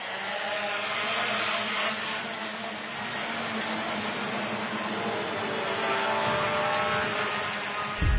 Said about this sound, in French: Et là, on va passer à un test de drone.